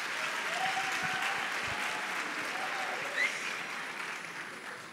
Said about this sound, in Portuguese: uma salva de palmas para a Débora